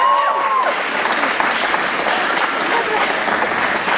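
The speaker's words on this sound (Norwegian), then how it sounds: "Og da tar vi en ekstra applaus." Audience applause at a Norwegian evening gathering after a competition placing, steady and close, with a voice briefly heard over the clapping at the start.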